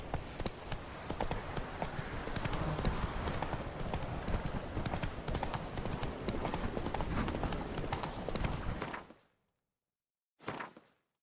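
Roach, a horse in The Witcher 3, gallops in a fast, dense rush of hoofbeats with no voices. The drumming stops abruptly near the end, and a single short burst of sound follows after a silent gap.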